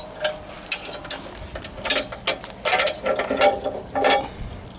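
Metal locking bolts on a hybrid caravan rattle and clink as they are handled, giving a string of close, irregular ratcheting clicks and taps.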